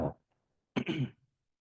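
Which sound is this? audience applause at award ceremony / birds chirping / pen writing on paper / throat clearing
throat clearing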